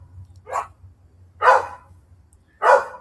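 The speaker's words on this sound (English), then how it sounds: "that's the most pathetic bark I've ever heard" Dog giving three short, separate barks about a second apart, the first softer and the next two louder, close and clear over a faint low hum.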